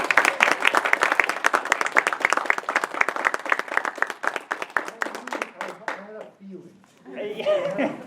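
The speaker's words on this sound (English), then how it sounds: "how about a round of applause?" A roomful of people gives a round of applause, sharp, distinct claps for about five seconds that thin out and stop before a speaker resumes talking.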